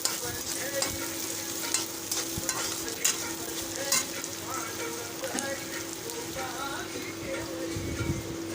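Onion, tomato and radish fry in a pan while being stirred: a continuous soft sizzle with frequent light scraping and tapping, fairly quiet, with a steady faint hum in the background.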